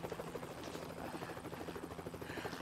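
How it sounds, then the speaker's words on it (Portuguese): Several helicopters fly overhead, a steady throbbing rotor chop that fills the whole stretch at a moderate, slightly distant level, with no talk over it. "Tá cheio de helicópteros."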